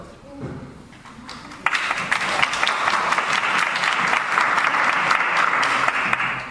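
Audience applause at a school board meeting, starting after a faint voice and then breaking into a steady, fairly close burst of many hands clapping that continues to the end.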